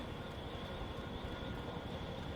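Black helicopter in the video game The Secret World gives a steady, dense rotor and engine roar that stays constant and fairly close throughout, with no voices.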